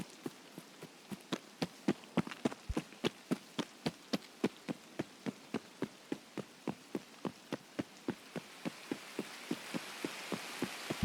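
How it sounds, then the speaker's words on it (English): Rain falls in Escape from Tarkov (SPT mod), a soft hiss that swells toward the end, under a steady march of crisp, evenly spaced footsteps that carry on throughout. "It is raining today."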